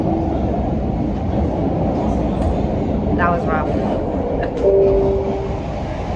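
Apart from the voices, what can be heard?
subway train ride, Boston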